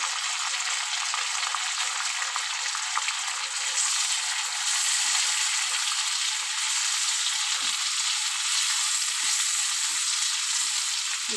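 Cumin seeds sizzle in hot oil with a steady, bright, close hiss that holds level throughout, with faint crackles underneath.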